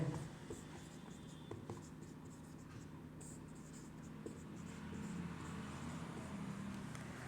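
Pen or chalk writing during a Hindi-language class 9 math lesson, faint scratching strokes in short bursts under a low room hum, with a teacher's voice quietly in the background.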